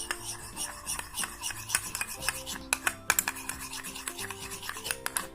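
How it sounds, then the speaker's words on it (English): A spoon stirs salt into a homemade slime mixture made without glue or borax, giving irregular scraping and rubbing sounds with sharp clinks against the bowl, close and fairly quiet. "let's mix this with the help of spoon"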